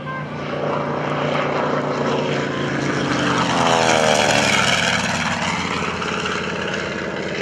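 A Grumman TBM Avenger, a WWII propeller torpedo bomber, flies past at an air national guard open house airshow: a loud, sustained radial-engine drone that swells toward the middle and slowly eases off, with no talk.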